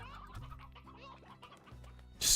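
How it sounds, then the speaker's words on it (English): Chickens clucking in the Slime Rancher video game, a steady run of soft clucks and low throaty calls with a brief louder burst near the end. "Just keep the old hens and the old roosters in here."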